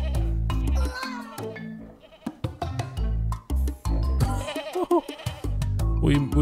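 Repeated loud, quavering bleats from a goat in the video game Just Crow Things, several cries in quick succession over a low droning game soundtrack.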